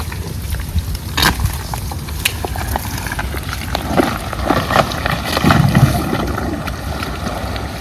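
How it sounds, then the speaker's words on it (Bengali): A small boat heads out onto the water in the Sundarbans mangrove forest, with steady water wash and wind noise around it and a few light knocks and splashes. No one speaks. "আমাদের বোট নামানো কমপ্লিট এখন আস্তে আস্তে বেরিয়ে পড়বো বাইরের দিকে"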